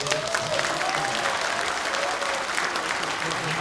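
Audience applause at a year-end talk show gathering, a steady sustained patter of many hands clapping at moderate loudness, with some voices mixed in.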